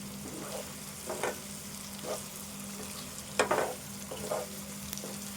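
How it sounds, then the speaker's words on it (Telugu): Egg frying in a pan for a tangy egg soup, a steady close sizzle broken by several louder scraping stirs, with no voices. "ఇట్లయితే కొద్దిసేపు ఫ్రై చేసుకోవాలి."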